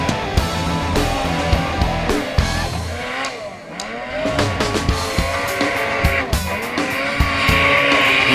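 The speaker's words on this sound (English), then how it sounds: "He's riding hard and fast as he's headed up the face" A racer riding hard and fast up a steep slope at the 2009 Jackson Hole hill climb, with a loud, continuous engine roar that rises and surges through shifting revs, heard close.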